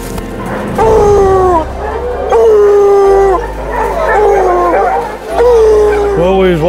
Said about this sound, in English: there's a bunch of dogs free ranging